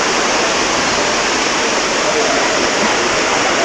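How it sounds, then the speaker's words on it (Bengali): A sudden heavy downpour with big drops roars in a dense, loud, continuous wash close by, steady with no pauses. "আশ্চর্য ঘটনা, হুট করে এমন ঝুম বৃষ্টি শুরু হয়ে গেছে"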